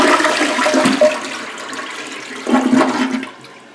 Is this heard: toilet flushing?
yes